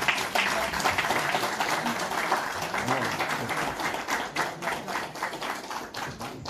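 Audience applause at a plaque presentation during a union workshop in Essen, Germany: a crowd claps steadily and densely for several seconds, close and lively, gradually thinning toward the end.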